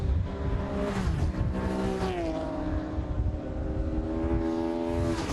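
Classic sports and saloon race cars, including a Ford Capri and an MGB GT, lapping Knockhill circuit in 2012. Loud, continuous engine drone rises and falls in pitch as the cars accelerate and shift, with overlapping motors.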